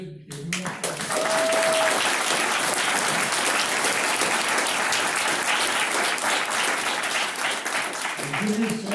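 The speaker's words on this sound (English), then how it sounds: "give yourselves an applause for what you did" A crowd applauding at a rent stabilization bill signing: dense, sustained clapping swells up after a brief voice and carries for several seconds before tapering as talk resumes.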